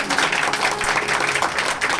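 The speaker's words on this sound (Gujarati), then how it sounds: "આર્ટિસ્ટો માટે વગાડો જોરદાર તાળી વગાડો." Audience clapping for the performing artists at a bhajan evening, a steady, dense wash of applause filling the hall throughout, loud and continuous without pause.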